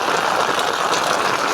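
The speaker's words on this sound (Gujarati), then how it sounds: "1 કલાક થયા વરસાદ" Steady rain falls on village houses and the market in Vadala village, Manavadar taluka, as a dense, continuous hiss with no pauses.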